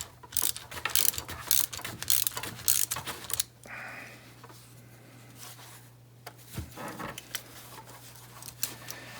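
Ratcheting wrench tightens a nylon locking nut on an aluminum CFP-90 backpack frame, giving bursts of close, rapid clicking in the first seconds, then quieter scattered clicks and handling noise.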